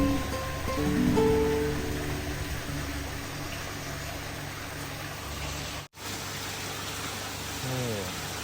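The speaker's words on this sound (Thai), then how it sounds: "การล้นน้ำออกมาเป็นน้ำตกนะครับ" At a koi fish farm, water spilling over as a small waterfall makes a constant, moderately loud rushing hiss, with brief bits of voice in the background.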